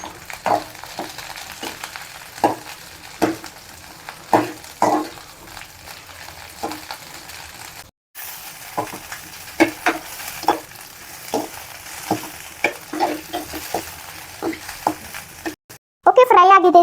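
Okra (ladies' finger) frying in a pan while a spatula stirs it, making steady repeated scraping strokes over a soft sizzle, with a brief pause midway.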